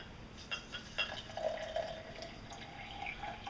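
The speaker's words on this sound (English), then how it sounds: "Then you're going to need 10 ounces of warm water" Warm water poured into a glass of chia seeds, heard as a quiet, close trickle with a few light drips and splashes, no talking.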